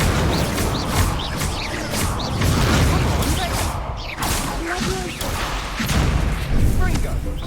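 In the Hogwarts Legacy video game, an Incendio fire spell is cast amid whooshing bursts, crashes and booms, with game voices speaking over the effects.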